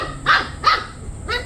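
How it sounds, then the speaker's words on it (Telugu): Three sharp yaps ring out close by from Bully Kutta puppies about three weeks old, evenly spaced over little more than a second. "లైకన్ అండ్ జిమ్మీ పప్పీస్ ఇవి."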